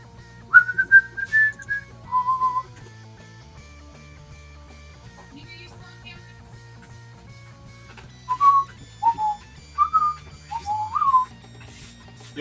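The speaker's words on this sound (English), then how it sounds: "You're whistling?" A person whistles a short melodic tune in a few bursts separated by pauses, close and clear over a quiet hum of background music.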